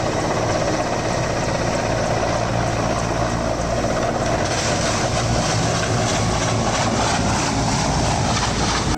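A helicopter in flight gives off a dense, loud roar of engine and rotor noise that runs without a break, with no clear separate impact standing out from the wash.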